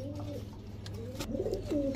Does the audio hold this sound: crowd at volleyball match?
no